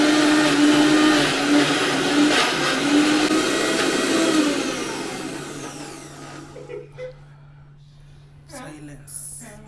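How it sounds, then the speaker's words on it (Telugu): A kitchen mixer grinder runs loud and steady while grinding chicken vada batter, then switches off partway through, leaving faint handling clatter and a low hum. "ఇప్పుడు పోయి మిక్సీ కొట్టుకుందాం."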